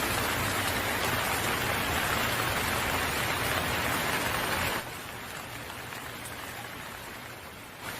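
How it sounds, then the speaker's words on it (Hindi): Heavy cartoon rain pours down as a dense, steady hiss of drops close by, easing to a somewhat quieter downpour a little past halfway and continuing to the end. "इतनी बरसात में तुम संभल कर जाना, क्योंकि बाहर बारिश बहुत ही ज्यादा हो रही है"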